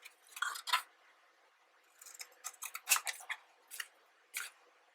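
Scissors snip through material while a box for giant playing cards is being made, giving a handful of sharp, quiet cuts in small bursts with short pauses between them.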